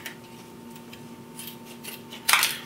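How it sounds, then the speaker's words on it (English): Quiet rustling and small clicks, then a sharp snip of scissors cutting through trail camera packaging near the end. "Use the scissors like I use in the other stuff."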